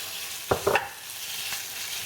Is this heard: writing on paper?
no